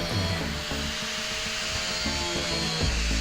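An angle grinder fitted with a steel cutting disc scores a steel plate while cutting a round hole, giving a loud, steady, close-up grinding whine with no speech over it.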